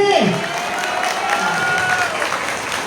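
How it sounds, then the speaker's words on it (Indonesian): A school audience applauds its principal at a parenting event, a dense wash of clapping with a few cheers and children's shouts, loud and continuous, while a voice briefly calls out at the start. "Boleh tepuk tangan dong buat kepala sekolah kita"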